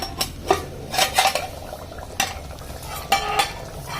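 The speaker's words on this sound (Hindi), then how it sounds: "मम्मी जो चावल बनाते हैं ना हम लोग, उसी बर्तन में देखिए मटन बना रहे हैं" Mutton cooks in a metal rice pot at home, with a spoon scraping and clanking against the pot in irregular, close stirring strokes and a soft sizzle underneath.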